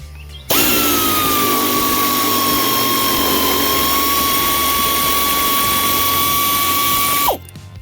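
An impact wrench spins off a half-inch bolt on a John Deere LA175 mower deck, one loud continuous high whine lasting about seven seconds, close, then stopping abruptly.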